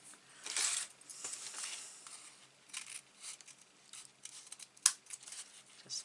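Scissors snipping paper while cutting a 3D snowflake from 12 x 12 patterned paper, a few sparse, quiet snips close by with soft rustling between them.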